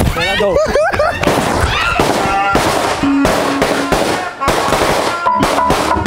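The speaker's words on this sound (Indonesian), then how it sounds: "Acara dimulai dengan menyalakan petasan." Rapid strings of firecrackers crackle and pop loudly nearby at the opening of a cultural event in Bandung Regency, Indonesia, with whistling bursts and voices and other noise from a crowd mixed in.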